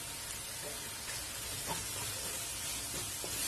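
Turkey berries sauté in oil in a pan, giving a soft, steady sizzle and hiss throughout with faint occasional stirring ticks, fairly quiet.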